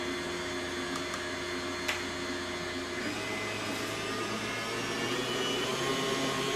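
An electric mixer runs on low through icing sugar, giving a steady close motor whir with a slight shift in pitch partway through, continuous and without talk.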